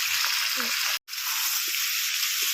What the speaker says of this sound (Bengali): আমি এখানে 1 চামচি মতন নুন আর 1/2 চামচি মতন হলুদ দিয়ে বড় চামচি আলুটা ভেজে নেব।